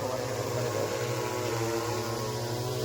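An agricultural spraying drone flies nearby over farmland, its rotors giving a steady, high buzzing whine that holds an even pitch throughout.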